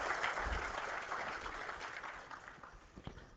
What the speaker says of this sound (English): big round of applause for our volunteers